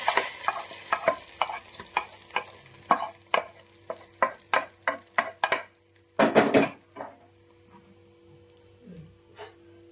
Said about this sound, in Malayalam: ഇനി ഇത് നമ്മളൊന്നും കൂടി ഒന്ന് എല്ലായിടത്തും ഒന്ന് മിക്സ് ചെയ്ത് യോജിപ്പിക്കണം.